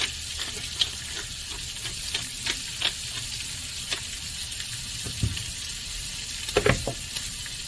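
Onions and mushrooms fry in a pan with a constant close, bright sizzle, broken by a few soft clicks and spatula scrapes.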